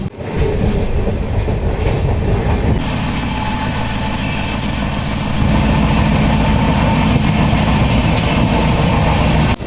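An express train rumbles steadily along the tracks, loud and close, with continuous low rolling noise and a faint rhythmic clatter from the wheels.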